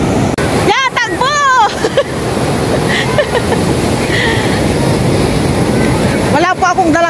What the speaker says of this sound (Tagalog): Lakas po ng alon as in.